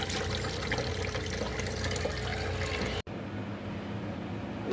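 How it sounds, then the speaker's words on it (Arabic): Rice being rinsed in water for a Moroccan-style Egyptian koshari, a continuous splashing, pouring wash of liquid that changes abruptly partway through, with no talking. "عندي واحد كيلو ديال الرز، غادي نغسلو مزيان"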